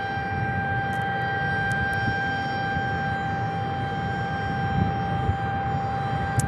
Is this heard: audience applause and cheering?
no